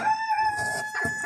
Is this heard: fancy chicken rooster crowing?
yes